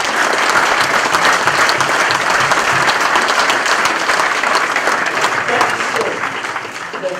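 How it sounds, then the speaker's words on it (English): A crowd at a union lobby event applauds steadily, dense clapping sustained throughout at close range with a few faint voices mixed in, easing slightly near the end. "I think we should applaud that for what they're doing"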